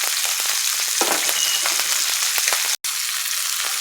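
Shrimp dusted with Old Bay–style seafood seasoning sizzling in a hot pan, a close, steady crackle with scattered pops and one abrupt momentary cutout near the end.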